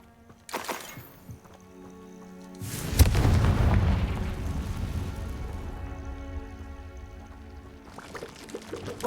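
A Confringo fire-blast spell in Hogwarts Legacy lands with a heavy booming explosion after a short lead-in crack, followed by a long rumbling, crackling tail that slowly fades.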